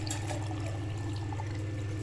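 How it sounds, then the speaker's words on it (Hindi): Water poured into a blender jar already holding pomegranate seeds and chopped beetroot: a steady, continuous splashing pour over a low background hum, with no voices. "अब इसमें पानी डाल देंगे"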